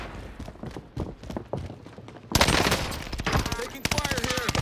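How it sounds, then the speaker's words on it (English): Machine-gun fire in Call of Duty: Modern Warfare, rapid close bursts that erupt suddenly midway after scattered earlier shots, loud and sustained with brief breaks, while a player speaks briefly. "Taking fire here."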